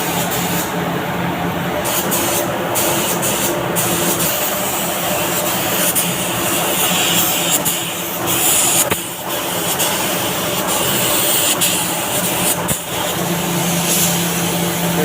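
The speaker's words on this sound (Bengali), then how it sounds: "এটা হচ্ছে পেন্টিং গান, পেন্ট মারবে এখন" A paint spray gun sprays paint in a continuous loud hiss that holds steady for the whole span, broken only by two brief dips, with no talk over it.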